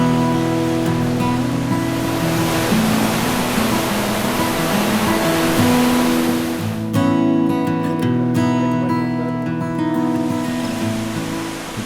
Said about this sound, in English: you can hear the lower fall from a distance